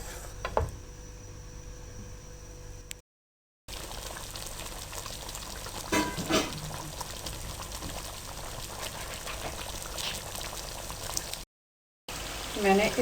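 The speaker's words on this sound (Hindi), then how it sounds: "कदरे तेज़ आंच रखनी है आपने और इसको अच्छी तरह से भून लेना है" Chicken with yogurt masala sizzles and bubbles over fairly high heat while being stir-fried, a steady close frying hiss broken by brief silent gaps and a few spoon scrapes.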